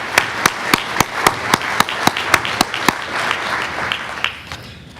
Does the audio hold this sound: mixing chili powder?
no